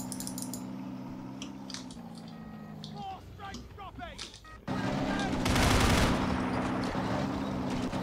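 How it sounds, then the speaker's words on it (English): Turrets of British Crusader tanks whirr and turn during a Men of War battle, with a steady mechanical hum, then chirping electronic tones, a sudden jump in loudness and gunfire, while a voice talks over it. "Very futuristic sounding turret movements by the British Crusaders, I must say."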